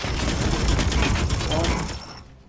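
Heavy automatic gunfire in Warhammer 40k: Chaos Gate – Daemonhunters erupts as a dense, loud burst of rapid shots that runs for about two seconds and then fades out.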